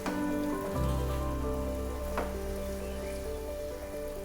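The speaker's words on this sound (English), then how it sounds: "Now at this point I will just lower the flame of the gas and mix everything" Okra and onion gravy being mixed in a pan over a low gas flame, a soft, continuous sizzle close by with a brief stir, alongside steady tonal background music.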